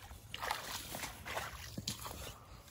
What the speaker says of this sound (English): we gonna knock a little water out here. Get this water moving.